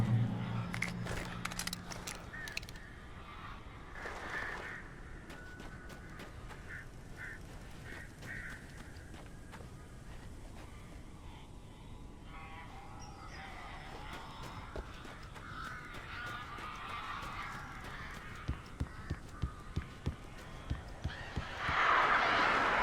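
Crows cawing inside a cabin in Alan Wake, scattered harsh calls over a quiet ambient background, with a louder burst of cawing and flapping near the end.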